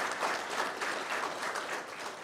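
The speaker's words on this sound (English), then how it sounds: "let's give them another big, huge round of applause for that accomplishment" A county board meeting audience claps in a brief, moderate burst of steady applause, even and continuous with no talk over it.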